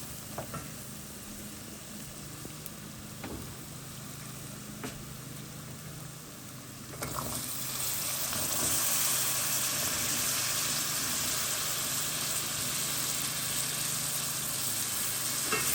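Potatoes go into a pan of frying dried fish curry: a low sizzle with a few faint taps, then the frying swells into a louder, fuller steady hiss that keeps going.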